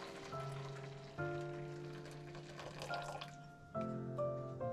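Hot water draining out of a Daiso rice-cooking bag: a faint, close trickle and splash of pouring water with a drippy, rain-like patter, shifting in strength a few times.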